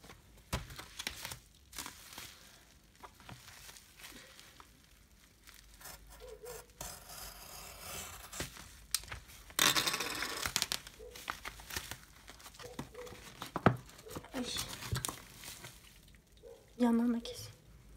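A mini bag package being opened by hand, with soft crinkling, rubbing and tearing of packaging up close, broken by quiet pauses and a few louder rips, while voices speak now and then over the rustling.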